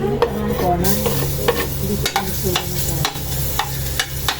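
Garlic and onion hit a hot pan, sizzling loudly up close, with repeated scraping stirs and utensil knocks at a steady rhythm while a voice speaks briefly over it.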